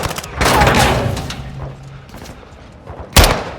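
Gunfire in Call of Duty Modern Warfare 2, with a burst of shots and a heavy report early on, then a sharp loud blast near the end, amid shouted voices and battle noise.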